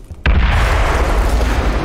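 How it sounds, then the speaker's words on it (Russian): An explosion in the video game Aliens: Colonial Marines hits suddenly as a loud, deep boom, then rumbles on heavily for more than a second. "Это взрыв."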